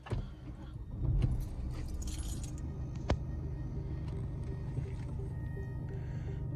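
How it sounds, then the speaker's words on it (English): Keys jangle and a Mercedes engine starts, settling into a low, even idle rumble heard close up inside the car, with a sharp click partway through and no talking. "Now let's start the car up."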